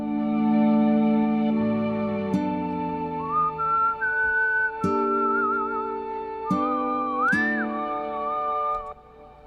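A lo-fi chill beats track has a sustained whistled melody gliding between held notes. It sits over warm layered chords and soft percussive hits, with flute-like tones blending in.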